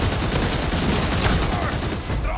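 Gunfire from four players shooting together in the Redfall video game, a dense, continuous clatter of overlapping rapid shots throughout the short burst, loud and close.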